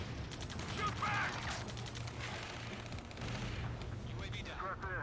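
Battle gunfire and artillery in the flight combat game Ace Combat 7, a steady rumbling barrage of shots and blasts at moderate loudness mixed with game radio chatter and voices.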